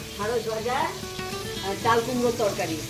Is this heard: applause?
no